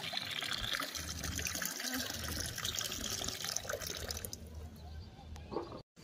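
Water pours from a bucket onto garden plants such as roses and aloe vera at a village home, a steady splashing gush lasting several seconds before tapering off and stopping abruptly.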